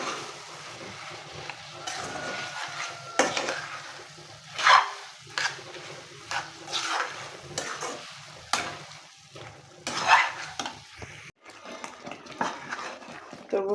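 Spoon scraping and stirring boiled mung dal into fried katla fish in a pan, a soft sizzle underneath with irregular clinks and scrapes spread across the stretch, close and moderately loud.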